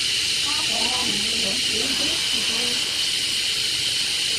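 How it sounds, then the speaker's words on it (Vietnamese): Steam hisses loudly and steadily as pressure is released from a cooking pot used for boiling bánh tét and banana rice cakes, a constant close rush with a person talking over it. "bây giờ mình xì hơi ra nè, nó xì xì"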